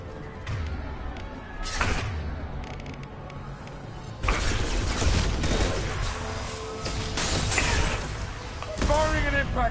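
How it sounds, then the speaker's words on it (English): Impact shots fired in a PS4 video game, several loud bursts with crashing debris over dense game noise, the second half heavier and sustained. "Firing an impact shot"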